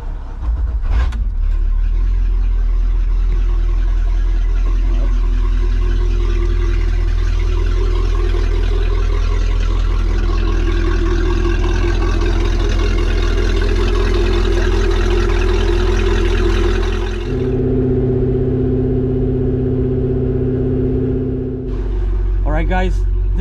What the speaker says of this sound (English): start up the engine, run it again for another 5-6 minutes